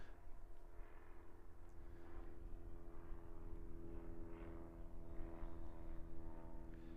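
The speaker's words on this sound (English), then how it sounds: "Nice little Piper. Yeah, little warrior." A Piper Warrior light propeller plane from a local aero club flies near Christchurch Airport, New Zealand, its engine and prop giving a steady, droning hum that stays fairly loud and even throughout, with no voices.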